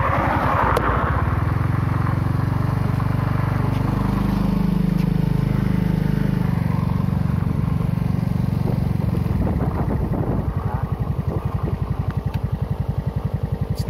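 A Raider J 115 Fi motorcycle is ridden nearby, its engine droning and rising in pitch as it accelerates, then settling into a throbbing, pulsing putter toward the end.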